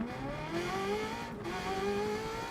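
An old nostalgic racing car's engine revs hard and climbs steadily in pitch, loud and close, with a brief dip before climbing again under constant mechanical roar.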